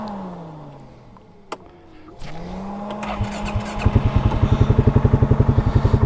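A Polaris Ace 570 engine cranks after a couple of faint clicks, catches and settles into a fast, pulsing idle, then revs in a rapid chugging rhythm that grows louder toward the end.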